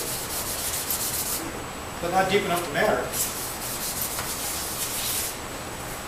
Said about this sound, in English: I'm just giving it a light sanding over here.